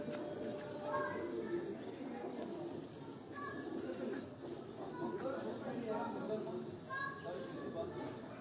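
Large pigeons cooing in a pigeon coop at a fancier's yard, soft repeated coos over steady background chatter, with people talking nearby.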